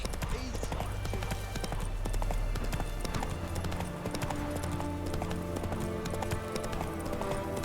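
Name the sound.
horse Roach hooves, from video game The Witcher 3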